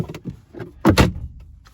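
A plastic cabin air filter cover on a 2019 Honda Ridgeline or Pilot slides into place, with a few light scrapes followed by two sharp, close clicks as it snaps shut.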